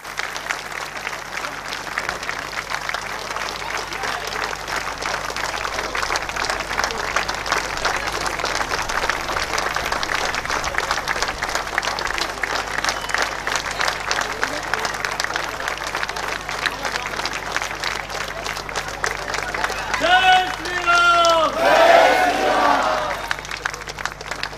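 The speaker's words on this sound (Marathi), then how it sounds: "या दोघी पती पत्नींचा सत्कार होईपर्यंत टाळ्या वाजत राहिल्या पाहिजे" A large audience at a felicitation event for a married couple in Sangli claps loudly and without a break. The applause is dense and sustained throughout, and a brief burst of voices near the end rises over the clapping.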